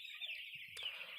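Broiler chickens cluck as a steady, soft chorus inside a poultry farm, with a few brief sharper calls rising out of the flock over a short stretch.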